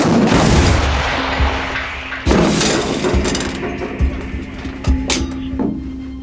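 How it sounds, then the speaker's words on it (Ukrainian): A single heavy boom opens, then a few dull thuds follow as the rumble fades, with a faint steady hum underneath. "Гармата! Постріл!"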